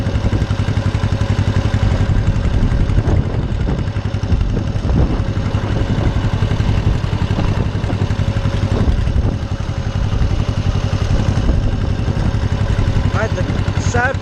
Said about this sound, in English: This is a small tractor.